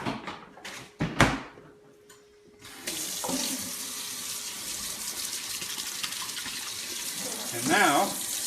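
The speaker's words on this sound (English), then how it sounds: "Pour it over into the sink." Black bean juice from a can is poured into a kitchen sink while cooking vegan tacos. A few clatters and knocks come first, then a steady running-water gush continues under faint room noise.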